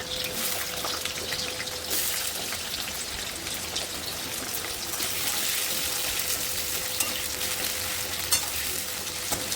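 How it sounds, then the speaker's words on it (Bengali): Sweet potatoes frying in oil in a pan for a Bengali shukto, a continuous loud sizzle with scattered crackles and faint stirring, with no speech. "রাঙা আলুগুলো ভালো করে ভেজে নেব।"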